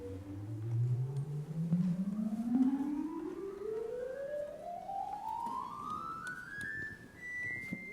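A single 8-foot Bourdon rank of pipe organ pipes, placed far back in a corner, plays steadily up the keyboard from the lowest note in a smooth rising run of soft, pure, flute-like tones.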